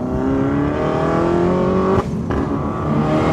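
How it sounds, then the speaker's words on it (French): A Peugeot 308 RC with 325 hp pulls hard, its loud engine note climbing steadily before a sharp gearshift break near the two-second mark, then picking up again with no talk. "J'adore le bruit que ça fait quand tu passes les rapports, c'est incroyable."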